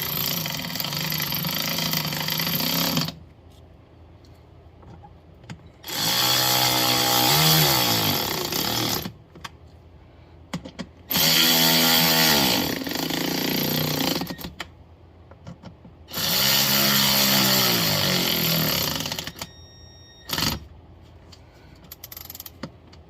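A power tool drives the 8mm bolts back in on a Foxbody Mustang heater core job, firing in three long loud bursts separated by quiet pauses, with a brief blip near the end.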